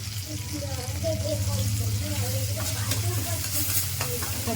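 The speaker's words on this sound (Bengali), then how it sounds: "ভালো করে একটু নেড়ে নিতে হবে।" Chilli and turmeric powder spices fry in a pan for a Bengali-style palak dal, with a constant loud sizzle and steady stirring scrapes close by.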